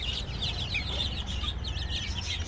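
Australorp chicks chirping, a quick run of high, thin peeps repeating over a low background rumble, close by and fairly faint, with no talking.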